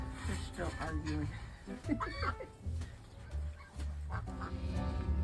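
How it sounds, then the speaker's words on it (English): Ducks in a snowy yard quack in short, close bursts that come and go, with a person talking over them now and then. "I sneak up on the ducks."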